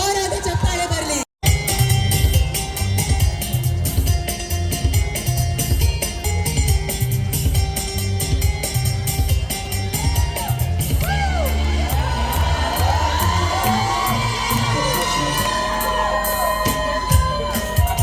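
Audience at a Mantri Alpyne Ganeshotsava cultural evening claps and cheers loudly, with yells and whoops sustained throughout over music and hall noise.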